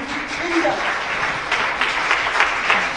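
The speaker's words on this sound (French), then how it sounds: "c'est pas pour moi les applaudissements" An audience at an evening conference on nanotechnology applauds in a steady burst of clapping, heard moderately loud for a few seconds.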